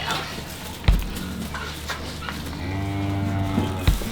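A cow moos on a homestead, a long low drawn-out call rising in the second half, heard fairly close over a steady outdoor background with a couple of sharp knocks.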